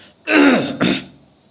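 A man clears his throat before a poetry recital: two close, raspy throat-clearing bursts, the first longer, heard alone.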